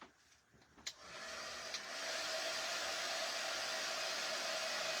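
A hair dryer blows over a craft transfer project, starting with a click and settling into a loud, steady whooshing roar that continues unbroken at close range.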